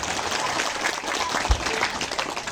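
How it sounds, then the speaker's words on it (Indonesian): A crowd at a Maulid commemoration gathering in Surya Bahari applauds for the event committee in a steady, moderately loud patter of clapping with a brief thump in the middle. "Berikan tepuk tangan untuk para panitia di Surya Bahari"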